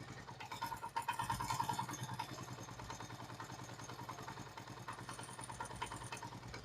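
Motorcycle engine idling steadily after its idle speed was adjusted, a low even throb with faint ticking, fairly quiet and with no talk over it.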